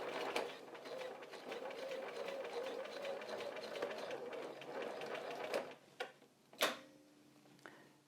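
A sewing machine stitches quilt binding in a steady, fast mechanical whir for several seconds, then stops, followed by a few sharp clicks and clacks close by.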